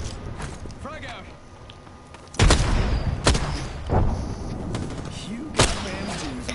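Grenade blast in a Destiny-style sci-fi shooter, a sudden loud boom followed by further sharp bursts of combat noise over a busy game soundscape.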